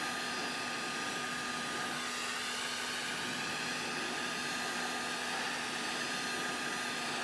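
A heat gun blows hot air onto a plastic Tie Pilot helmet part with a constant, close, even whooshing roar that runs unbroken from start to finish with no talking.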